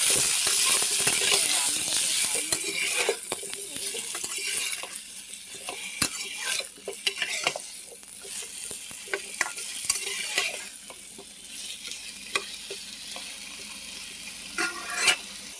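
Potatoes frying in hot oil with chili and turmeric powder, a close sizzle broken by frequent stirring scrapes and clinks of a utensil against the pan, busy and uneven throughout.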